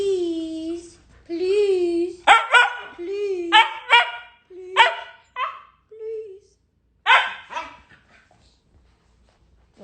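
A dog howls and yips in long wavering cries and short sharp barks, close and loud, with pauses between calls and a person speaking in between during play.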